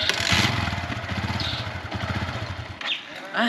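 A motorcycle engine on a rural farm road sputters and labors with a rough, uneven chugging that cuts out near the end, followed by brief bursts of sound; close and fairly loud.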